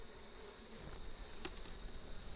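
Honey bees buzzing inside the body of a bass guitar, a steady, faint droning hum with a few brief louder flutters, with no voices.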